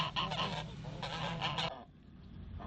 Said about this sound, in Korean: 수컷거위들도 흥분하기 시작한다